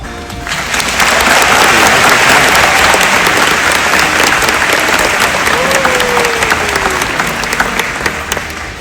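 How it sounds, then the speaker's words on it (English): Loud, sustained audience applause at a high school graduation ceremony honouring award and scholarship winners, a dense steady wash of many hands clapping that swells quickly and holds without a break. "Please join me in a round of applause to congratulate the subject award and scholarship winners"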